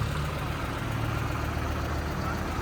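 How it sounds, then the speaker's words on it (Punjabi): A steady, loud engine rumble with deep low-frequency drone, idling evenly throughout without pauses; a New Holland 6500 tractor engine running close by. "ਤੇ ਆਵਾਜ਼ ਦਾ ਤਾਂ ਬਾਈ ਟਰੈਕਟਰ ਦਾ ਕੋਈ ਕਹਿਣਾ ਹੀ ਨਹੀਂ ਹੈਗਾ"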